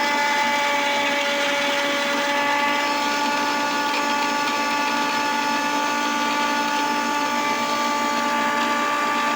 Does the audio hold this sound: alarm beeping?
no